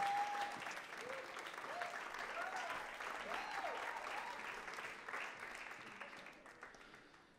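A church congregation applauding, steady, dense clapping with scattered cheers that slowly fades toward the end, quite faint overall.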